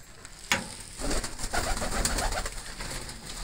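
Pigeons in a loft give soft rolling coos, several overlapping calls close by, with a brief sharp knock near the start and low background rustling.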